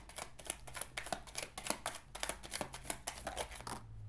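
Toltec agreements oracle cards are shuffled by hand in a quick, steady riffle of soft flutters and slaps, close and moderately quiet over a faint low hum.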